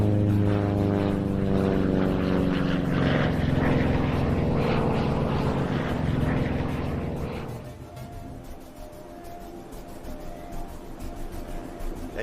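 A jet aircraft in flight gives a loud, harmonic engine drone that holds steady, then fades and thins out over its last few seconds, with no voices.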